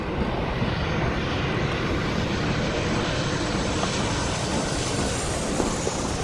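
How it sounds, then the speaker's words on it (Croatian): A passenger airplane flies over near Frankfurt airport. Its engines give a loud, constant broadband roar that stays even for the whole stretch, with no talking. "veoma često i putnički avion zbog blizine frankfurtskog aerodroma"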